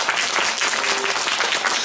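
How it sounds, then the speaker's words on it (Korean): Audience applause after a lecture on civil disobedience and basic income at a youth essay and debate event: brief, full, steady clapping from a crowd of students, teachers and parents. "다시 한번 큰 박수 부탁드리겠습니다."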